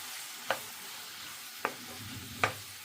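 Salt and turmeric frying in a pan, a faint steady sizzle broken by three sharp stirring scrapes at uneven intervals, with no talking.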